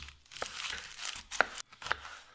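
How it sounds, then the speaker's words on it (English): A knife slices through onions in a few crisp, crunchy cuts against a board, close and fairly quiet, with brief pauses between strokes. "All right, Alex, we need to take 2 large onions and you have to slice them"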